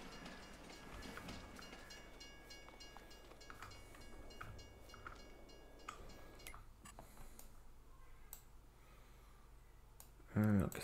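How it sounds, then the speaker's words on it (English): A train in Farming Simulator 22 on the Haut-Beyleron map rolls along quietly with faint rhythmic clicking of wheels on track, ending in a brief louder thump. "Okay, let's return Mr. Train."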